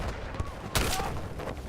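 Sniper gunfire in a shooter video game: a sharp, loud crack of a shot cuts through a busy background of distant gunfire and battle noise, with a fainter shot earlier.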